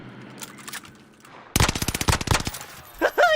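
Rapid RAM-7 assault rifle fire in Warzone Pacific: a loud, fast burst of evenly spaced shots lasting about a second, with quieter game sounds and a few scattered shots around it.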